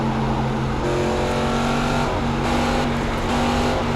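A race car engine in the iRacing sim game drones loudly and steadily, shifting pitch a few times as gears change, with no talking.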